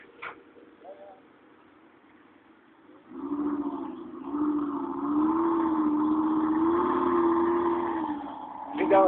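Lamborghini Gallardo Spyder sits idling with a low steady engine note, then is revved and held at a higher, wavering pitch for several seconds, fairly close, with people talking over it.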